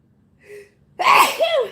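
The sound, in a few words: sneeze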